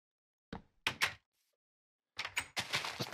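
Wooden door being placed in a Minecraft game world: a few short, close knocking clunks, then a denser cluster of quick wooden taps and thuds with a brief quiet gap between them.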